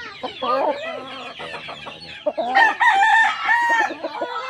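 A super sweater gamefowl rooster at a cockfighting derby crows loudly and close, with long wavering calls broken by clucks and other fowl sounds in the background.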